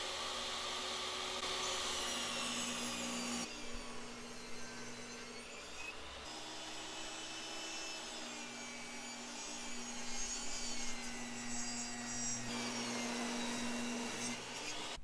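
Table saw ripping framing lumber into 2x2 strips, a steady whining motor hum with a gritty cutting rasp that rises and falls in passes over about fifteen seconds, fairly quiet and without talk.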